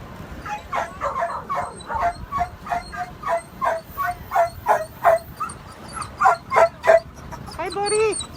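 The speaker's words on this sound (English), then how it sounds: "So, look at all these dogs." Many rescued dogs at a shelter arrival yip, bark and whimper in an excited chorus, close and loud, with high whines near the end.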